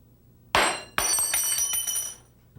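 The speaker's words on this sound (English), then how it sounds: "When a thermometer breaks, the glass and any liquid that spills out must be cleaned up and disposed of properly." A glass laboratory thermometer shatters on a bench with a sharp crash, followed a moment later by a second impact and a bright tinkling scatter of glass shards that rings on briefly before fading out.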